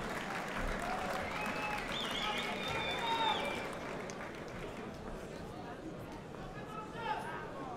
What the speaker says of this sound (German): Applaus für den couragierten Kampf, meine Damen und Herren.